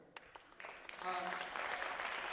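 An audience in a room applauds and cheers, starting as scattered claps and swelling into steady, full applause.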